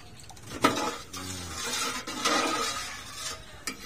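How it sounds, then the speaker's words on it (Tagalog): A pot of maha, a Filipino coconut pudding, is being stirred as it boils, giving a steady scraping and sloshing with a few light clinks of the spoon against the metal pot. "kasi ito dapat haluin habang sumusulak"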